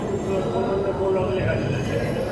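A Kolkata Green Line metro train runs toward the airport alongside Jessore Road, giving a continuous close rumble with a faint steady whine while a voice talks over it.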